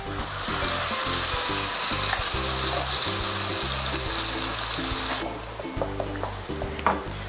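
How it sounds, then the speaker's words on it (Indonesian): Ground spice paste sizzles and spits loudly in hot oil in a frying pan while being stirred, a dense steady fry that drops suddenly near the end to quieter crackles and occasional clinks. "Oke, minyaknya sudah panas, sekarang kita mulai tumis bumbunya."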